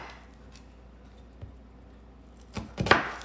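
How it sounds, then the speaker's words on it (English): A knife chops an onion on a cutting board: a few faint taps early on, then two or three sharper, louder cuts close together at the end, heard near with no talking. "I'm just gonna chop it up kind of coarsely"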